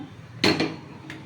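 A metal pot set down onto a stove in a home kitchen while cooking sago payesh, a sharp clanking knock followed by a smaller rattle and a faint second tap, close and brief.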